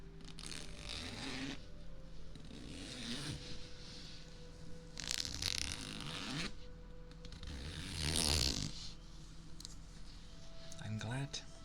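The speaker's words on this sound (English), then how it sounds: "The good old zipper." A clothing zipper is pulled in several soft, scratchy runs of differing length, close and quiet in an intimate, hushed setting, with brief rustles between the strokes.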